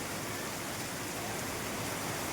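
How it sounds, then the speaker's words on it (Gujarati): A full downpour lashes an outdoor cricket ground, making a constant broadband roar of rain and running water, steady and near, with no talking. "વરસાદ ફૂલ વરસાદ ચાલુ છે"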